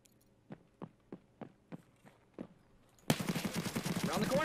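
Gunfire in Escape from Tarkov: seven spaced, muffled shots in an even rhythm, followed by a sudden loud burst of noise as a voice talks over it.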